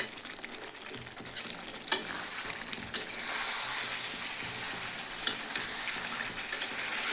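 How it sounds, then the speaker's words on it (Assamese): Spices and cauliflower frying together in a pan on raised heat sizzle steadily up close, with scattered sharp spatters and stirring clicks throughout; no one speaks. "এতিয়া মছলাই আৰু কবি একেলগে ভাজিম।"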